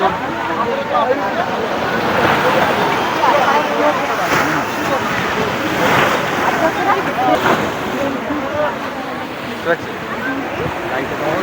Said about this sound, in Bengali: এখন ভরা জোয়ার